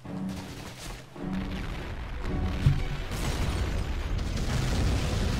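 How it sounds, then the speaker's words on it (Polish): Explosions in the WWII shooter game Medal of Honor: European Assault, a series of dull booms and rumbling blasts with mechanical clatter, moderately loud and continuous, with no talk. "Te wybuchy, te eksplozje."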